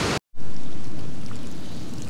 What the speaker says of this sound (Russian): Короче, начинается такой маленький дождик моросить.